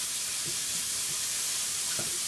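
Separated bacon frying in a pan, a steady broad sizzle with occasional soft pops and stirring knocks, close and continuous.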